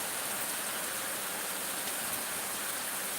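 Steady, dense rain hiss fills the whole clip, a broad constant wash with no voices or breaks.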